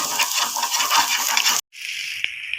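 Egg chutney fries in a pan with a loud, crackling sizzle, then cuts off abruptly for a moment. A quieter, steadier hiss of frying follows, broken by a few small clinks.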